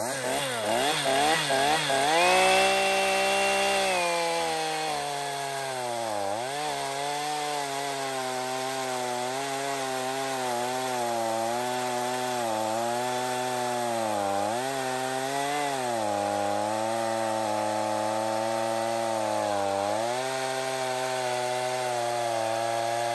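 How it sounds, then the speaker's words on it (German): A Stihl MS 162 chainsaw saws three slices from a log, a loud, close, sustained whine whose pitch dips and recovers as the chain bites into the wood, with no voices. "Wir werden drei Scheiben sägen, von unten nach oben und wieder nach unten runter."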